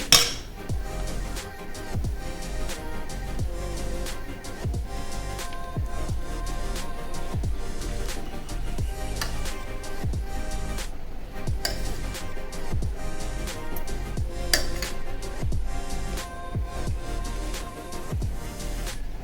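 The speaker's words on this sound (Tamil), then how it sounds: "இப்போ சாப்பாடை போட்டு கிளறிக்கலாம்" Metal spoon repeatedly scraping and knocking against a pan while cooked rice is stirred for coconut rice, a steady rhythm of clinks and taps over quiet background music.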